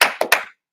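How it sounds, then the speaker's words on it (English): Brief burst of audience applause at a live office event, a few sharp claps in quick succession that fade out within half a second, followed by a faint single tap. "Let's give it a applause."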